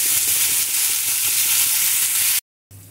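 Fish sizzles steadily in hot oil in a steady, dense crackle that cuts off abruptly near the end and then resumes.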